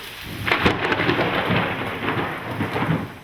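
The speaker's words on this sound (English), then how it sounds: "Sunny days can develop into intense thunderstorms, which can bring with them damaging hail." A Colorado thunderstorm brings heavy rain drumming steadily on surfaces, with low rolling thunder rumbling beneath the dense hiss throughout.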